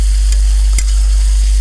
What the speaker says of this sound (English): Stir away, making sure things don't stick to the bottom of the pan